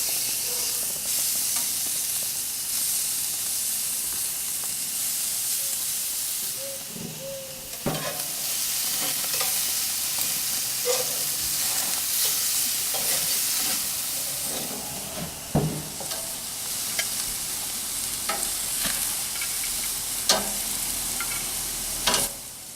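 Steady, close sizzle and hiss of prosciutto-wrapped chicken tenders cooking on a hot grill, with occasional pops and crackles rising above the constant frying noise.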